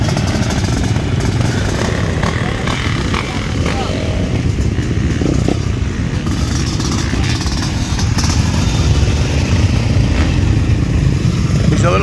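Motocross bikes run on a dirt track during qualifier practice at Unadilla, mostly four-strokes plus a 1989 Honda CR500R two-stroke, making a steady, dense engine drone with revving throughout; a voice is faintly mixed in.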